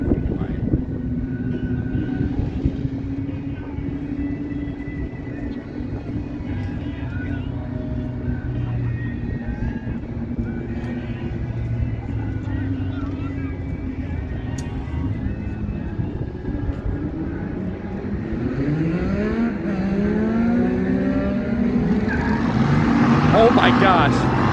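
Ram TRX and Dodge Hellcat at a no-prep street race, a continuous engine roar at a distance that builds toward the end into a louder rising rev, with crowd chatter throughout.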